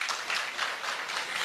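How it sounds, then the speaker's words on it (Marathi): Applause from an audience at a Marathi language lecture event, a steady wash of clapping that fills the short moment evenly at moderate, slightly distant level. "टाळ्या वाजवा यांच्यासाठी"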